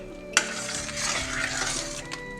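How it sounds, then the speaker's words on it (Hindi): Egg white is swirled into hot and sour soup with a spoon, producing a sharp clink against the pot, then a soft, continuous stirring sizzle, and another light utensil tap near the end. "बस इसको चलाते रहेंगे बगैर फेंटे हुए, बस इसको हमने फ़ौरन डाल के घुमा देना है"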